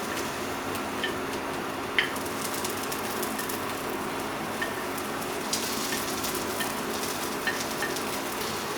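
Bacon slices and baked beans frying together in a single pan for an egg toast sandwich, giving a steady hiss of sizzling with occasional light ticks and pops, no voices.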